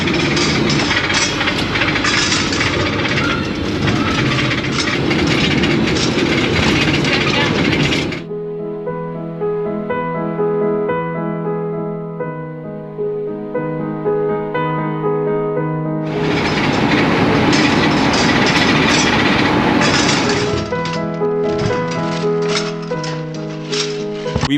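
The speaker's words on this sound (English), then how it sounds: "we have to settle for the ambient sounds of the motorhome table and the oven grill pan." A motorhome's table and oven grill pan rattle while it drives. A loud broadband road rumble gives way midway to a steadier tonal hum, then the rattling rumble returns.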